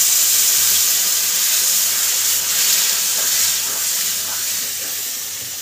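Water poured onto spice paste that has been fried in oil for vetki fish-bone chorchori, raising a loud, steady hiss and sizzle of steam that fades slightly toward the end.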